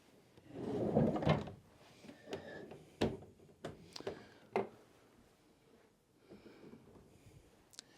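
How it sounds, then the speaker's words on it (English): A drawer on an antique Gillows secretaire is pulled out and its false front flaps down, giving a scraping wooden slide followed by a series of close knocks and clunks. "here we have a secretaire drawer that pulls out with a false front that flaps down"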